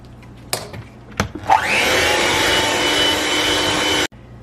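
Electric hand mixer beating Oreo cheesecake batter in a bowl, a steady loud whir running for about two and a half seconds after a few knocks and clicks, then cutting off abruptly.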